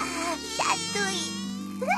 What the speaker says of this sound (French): Il bourdonne et vole en te chatouillant le nez, petit ourson.